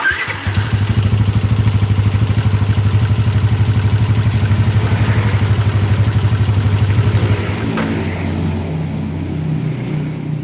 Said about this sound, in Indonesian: Nah mungkin teman-teman penasaran ini mesin apakah suaranya kayak gimana